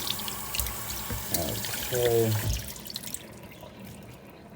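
Tap water runs through a potted Maxillaria orchid, a steady splashing and trickling that swells for a moment before fading into quiet, with a brief spoken word near the start.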